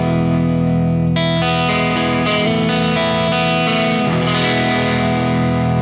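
Electric guitar on the neck pickup played through an amp with a JHS Kilt pedal, distorted chords ringing out with warm sustain, a few new strums layered over the decay, no talking.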